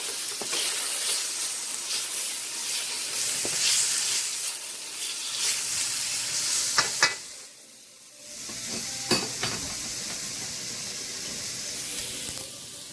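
Garlic sizzles in a wok of hot oil for a curry chicken stir fry. A steady frying hiss carries through, with scrapes of stirring and a brief quieter dip partway along.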